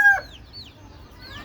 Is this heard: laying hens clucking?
yes